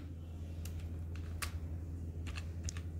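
Keyboard typing during Excel data entry: scattered soft key clicks in a few short bursts over a steady low hum, fairly quiet and close.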